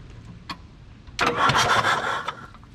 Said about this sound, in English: Cranks over good without those injectors in.